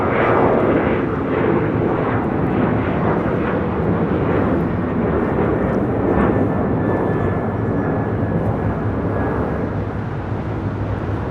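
A Lufthansa Boeing 747 moves across Los Angeles airport toward the north side, its engines producing a loud, continuous jet roar that stays close and steady for the whole stretch, with a faint whine near the middle.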